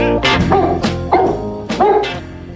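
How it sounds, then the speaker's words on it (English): A dog barks at the door several times in quick bursts, loud and close, with no one talking. "He barks every time someone comes to the door, devoted to your protection."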